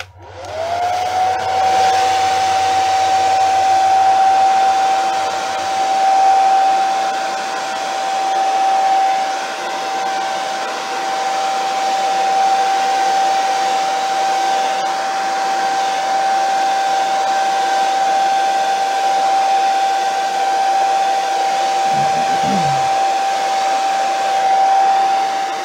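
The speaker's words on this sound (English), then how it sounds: "I'm going to use the hairdryer to even this out." A hairdryer blows steadily onto wet black and teal acrylic pour paint thinned with water and Floetrol, a loud, continuous whine with a constant pitch holding throughout, alone with no talk.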